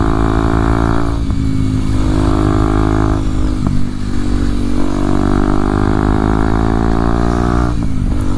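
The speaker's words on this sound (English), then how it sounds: "this is the first bike that I've gotten since my accident, and this is a good little practice bike" A 2023 Kawasaki KLX 230SM motorcycle engine drones loudly and steadily while riding, rising in pitch through gears with a few brief shift dips, close and continuous with no talking.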